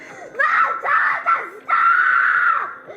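A child screams and wails in distress during a restraint hold, in several long, loud, close cries with short breaks between them, rising and falling in pitch with no calm speech.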